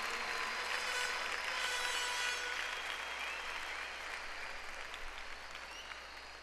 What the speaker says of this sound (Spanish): Aplauda a Dios por ellos.